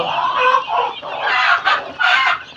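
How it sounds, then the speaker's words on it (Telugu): A crowd of month-old guinea fowl chicks chirping nonstop, close and fairly loud, their high peeping calls overlapping in a busy, rising and falling chorus. "మంచి నీట్గా ఉన్నాయి సింహ కోడి పిల్లలు"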